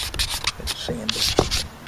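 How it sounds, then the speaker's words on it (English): Hand sanding of sticky wood on a night stand gives close, short rasping strokes in an uneven rhythm, loud and near, with no talk. "Let's sand it."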